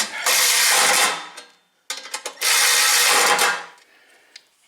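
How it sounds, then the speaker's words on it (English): Ratchet driving bolts into an Ariens snow blower, two long, loud bursts of rapid clicking separated by a short pause and a few brief ticks. "the short ones will require a short distance to ratchet them in"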